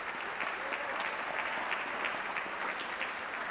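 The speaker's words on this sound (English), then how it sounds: "let's give them a round of applause." Steady, dense applause from an audience at a school honor band concert, applauding a student band; continuous clapping throughout with no pauses and no speech on top.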